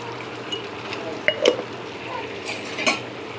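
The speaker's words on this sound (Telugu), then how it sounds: "ఒకసారి కలిపి పెట్టుకుందాం." Greens pulao with garam masala is mixed in a pot, giving a few faint spoon scrapes and metallic clinks against the rim over a quiet background.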